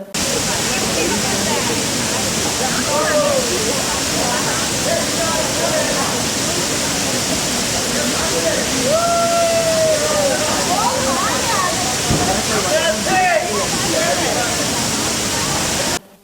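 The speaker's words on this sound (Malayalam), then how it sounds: "ഉയരത്തിൽ മലമുകളിൽ നിന്നും വെള്ളം പാൽനുര പോലെ താഴേക്ക് പതിക്കുന്ന കാഴ്ച ഏറെ ഹൃദ്യമാണ്" At Irachilpara, near the bridge on the Kovilkadavu–Idakkadavu road, a strong flow of water plunges from the hilltop onto a cluster of rocks, making a loud, unbroken close-up roar.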